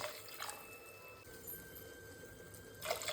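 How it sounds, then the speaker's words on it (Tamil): Water poured into a pan for wheat rava upma, making a faint, steady splashing rush that swells slightly near the start and at the end. "இப்போ ஜலம் ஊற்றலாம்"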